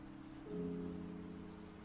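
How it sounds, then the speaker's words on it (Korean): A sudden rain shower pours down outdoors, heard as a faint, steady soft hiss beneath a low humming tone, quiet and continuous with no voices. "소나기가 쏟아져요."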